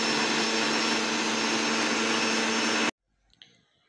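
A mixer grinder blending chocolate cake batter whirs at high speed with a loud steady whine, then stops abruptly, leaving near silence and a faint clink.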